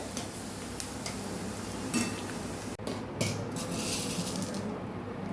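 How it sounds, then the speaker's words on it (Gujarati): Homemade dried khaman pieces fry in hot oil for Gujarati chevdo, a steady soft sizzle with occasional clinks of a utensil against the pan, no talking. "તો ખમણને બધું આપણે તળી લેવાનું છે."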